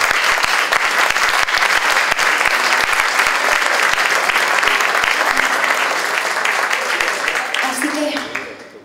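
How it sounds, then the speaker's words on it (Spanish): Sustained audience applause fills a concert hall during a music performance, dense and steady for several seconds before tapering off near the end. "Por favor, un fuerte aplauso para él."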